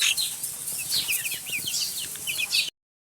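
Young local roosters and chicks on a Nepali homestead cluck and chatter in a steady busy flurry, with a few wing flaps mixed in, close by and fairly loud with no talk.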